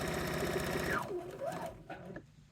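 Sewing machine stitching a drawstring bag casing over its cord, a fast steady whirring run for about a second, then slowing with pitch sliding down and short bursts before stopping.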